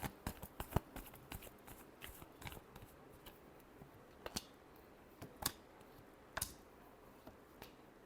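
Tarot cards being shuffled for a final time, a soft scattered run of light riffling clicks and flicks with a few sharper snaps, close and fairly quiet with no talking.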